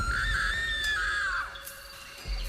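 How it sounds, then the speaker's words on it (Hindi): A woman lets out a loud, frightened scream that rises and then falls away, a single drawn-out cry in a horror story setting. "उसे देखकर वो जोर से चीख पड़ी"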